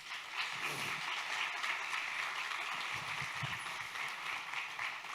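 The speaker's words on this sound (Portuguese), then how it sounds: "Aplauda Jesus" Church congregation applauding at a Sunday evening service, a steady wash of clapping from many hands held at even strength for several seconds, with no voices standing out.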